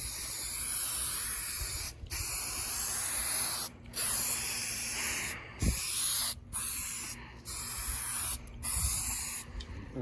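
A spray can hisses steadily as it coats a truck headliner, in loud, close bursts of several seconds each, separated by short pauses.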